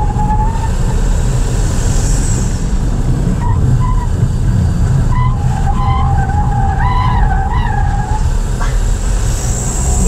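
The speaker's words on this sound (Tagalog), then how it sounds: "Iyak agad yung gulong eh." A 2024 Nissan Almera VE's tires squeal in several short wavering bursts over steady low road and engine rumble, close and fairly loud.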